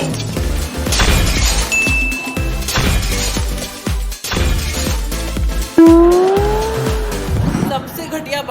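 A car speeds in with tires screeching sharply, and the squeal rises and bends over a couple of seconds near the end, under a dense, loud music track.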